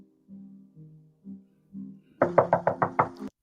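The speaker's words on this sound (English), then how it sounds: "no matter how long they knock" Someone knocks hard on a door at night: a few dull low taps first, then a rapid burst of six loud, sharp knocks close by, with silence between.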